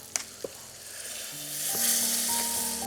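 Water poured into a pan of hot cooked masala bursts into a loud, rising hiss of sizzling steam after a couple of light clinks, with no talking.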